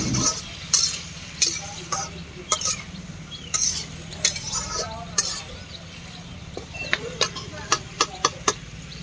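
Small fish and bitter gourd frying in a pan, with faint sizzling under repeated sharp clinks and scrapes of a spatula stirring against the pan; quiet overall.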